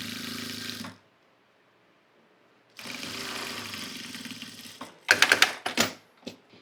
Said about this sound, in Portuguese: Costuro bem aqui rente à dobrinha e depois vou rebater.